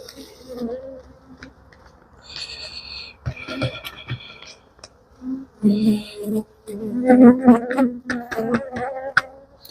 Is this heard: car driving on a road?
no